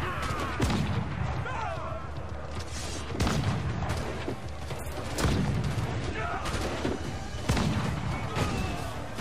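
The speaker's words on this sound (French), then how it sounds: "vous pouvez prendre un canon et tirer sur les ennemis" Heavy booming cannon blasts fire every few seconds amid a dense roar of battle noise, with loud repeated explosions throughout, from naval combat in an Assassin's Creed video game.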